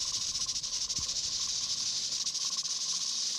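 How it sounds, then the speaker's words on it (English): A pressure canner holding beans hisses steadily while the weight bobble on top spins, giving a continuous loud steam hiss with a faint rhythmic flutter and one soft low thump early on. "this pressure canner, that little bobble on the top, it is spinning around and making a lot of noise"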